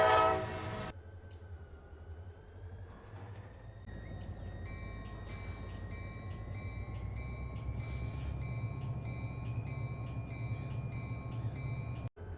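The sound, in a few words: CSX locomotive powering up, Run8 Train Simulator video game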